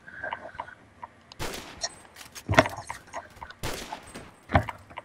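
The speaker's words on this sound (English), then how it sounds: "I sniped him in the head." Gunfire in the video game Phantom Forces, with a sniper rifle among the weapons: sharp loud shots crack at intervals, two heavier blasts stand out, and fainter pops sit between them.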